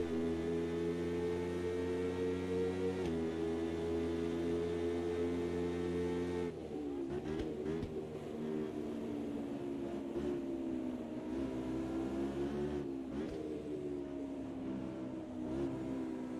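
Race cars at Silverstone during an endurance round, engines holding a steady harmonic drone before shifting pitch and fading into a rougher, wavering roar, with no talk.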